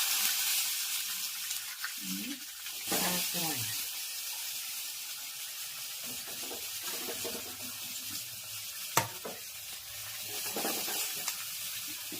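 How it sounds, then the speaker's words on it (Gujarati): Patra is tempered in hot oil with cumin and white sesame seeds, a soft crackling sizzle with stirring, watery splashes and a few sharp clinks, under occasional voices. "સરસ મજાના પાતરા વઘારે શરૂ થઈ ગયો છે, આપ જોઈ શકો છો. જીરું અને સફેદ તલ"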